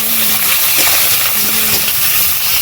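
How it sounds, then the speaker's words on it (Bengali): River shrimp and chopped onion fry in a pan with a loud, steady hiss of sizzling oil that runs unbroken from start to finish, with no talking. "চিংড়ি, পেঁয়াজ খুব সুন্দর ভাবে লাল লাল করে ভাজা হয়ে গেছে।"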